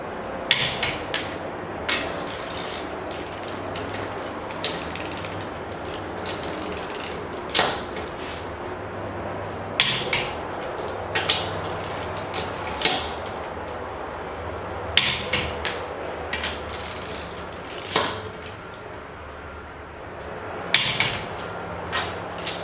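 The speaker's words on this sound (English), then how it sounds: "tighten all 5 down in a star pattern." Car wheel lug nuts being tightened down in a star pattern with a torque wrench, a series of sharp metallic clicks and clunks spaced irregularly over a quiet background hum.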